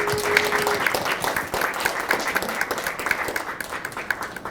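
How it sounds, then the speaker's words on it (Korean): An audience at a political party welcome ceremony applauds steadily, many hands clapping in a dense, even patter that carries on for several seconds, with a faint voice or tone briefly underneath at the start. "박수를 한번 쳐드리면 어떨까 싶어요."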